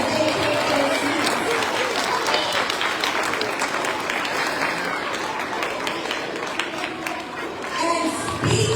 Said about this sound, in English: Let's give them another round of applause as they take their seats.